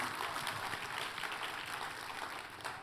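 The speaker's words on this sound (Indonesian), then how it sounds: "Tepuk tangannya yang paling meriah buat Tuhan kita" A church congregation claps for God, a steady, dense wash of applause filling the room without pause.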